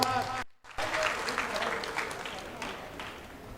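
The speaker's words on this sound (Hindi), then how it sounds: "जोरदार तालियों के साथ।" Crowd clapping at an outdoor political rally in Mahendragarh, a lively burst of applause after a brief cut, with someone speaking loudly over it.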